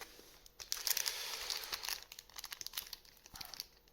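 A Force of Will trading card booster pack being torn open up close, with crinkling foil wrapper and ripping sounds in quick irregular bursts.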